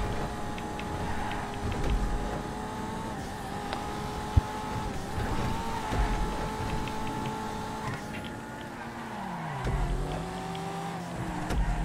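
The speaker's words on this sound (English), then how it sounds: "I hear that roaring sound of a American engine right behind me" An American car engine in GTA Online roars steadily with rising and falling revs during a race, loud and close, with the whine of other engines and a sharp click partway through.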